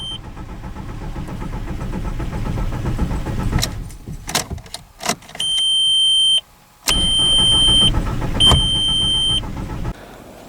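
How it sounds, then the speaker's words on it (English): A VW MK4 TDI engine cranks over repeatedly without catching, starter churning close by in steady bursts broken by short pauses, with a few electronic warning beeps sounding between attempts. "I'll try and crank it over. I know it's not gonna start."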